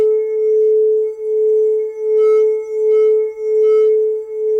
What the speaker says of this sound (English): listen to the harmonics. Listen to go up in pitch.